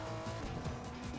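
A car in Fortnite driving hard with squealing tires, a continuous engine roar and skidding screech, loud and steady throughout, with no voices.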